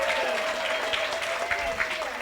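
Audience applause for a winner at an entrepreneurship programme graduation, a steady, dense clapping crowd with a voice speaking faintly underneath and a thin tonal hum running throughout.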